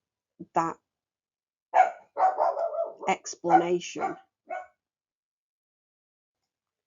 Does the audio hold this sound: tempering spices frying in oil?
no